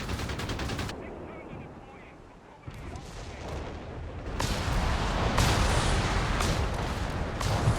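Artillery shells pound the field in a Company of Heroes 3 multiplayer battle, a loud sustained barrage of blasts and crackling impacts that swells toward the end.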